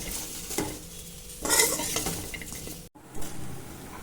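Okra sautéing in oil in a pan, with a soft continuous sizzle and bursts of spatula stirring and scraping against the metal, close and alone without talk.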